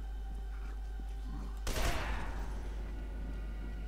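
Gunfire erupts in the F.E.A.R. 2 shooter, a sudden loud burst of shots partway through that decays into rattling echoes over a low background rumble.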